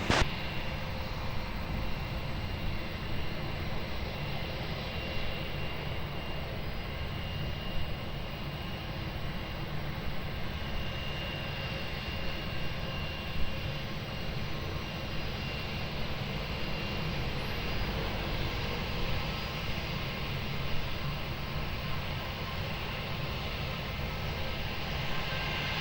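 Aircraft landing at Lisbon Airport, a continuous distant engine roar and rumble of moderate loudness that holds steady with small swells.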